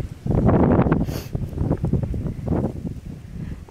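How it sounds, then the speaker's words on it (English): Outdoor wind gusts buffet the microphone with a loud, broad low rumble that swells and eases over a few seconds, with a brief hiss of rustling in between while searching outdoors for a bumblebee. "it's so windy!"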